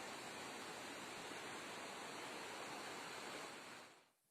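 Floodwater in Uttarakhand running strongly after heavy rain, a loud, continuous broadband rush like a torrent, steady for several seconds before cutting off abruptly near the end.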